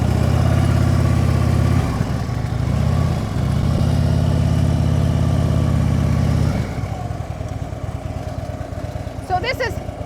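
A motorcycle engine idles and rumbles steadily at close range as the rider coasts through a slow U-turn, the tone dropping and fading toward the end.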